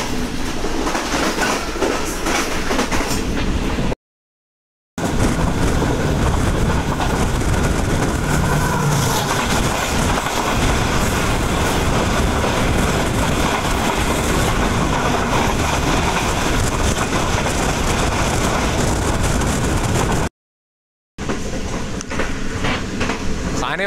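Green Line Express passenger train in Pakistan running through Rajput Nagar station, a loud continuous rumble and rattle of wheels and carriages with rhythmic clatter, heard steadily for over twenty seconds.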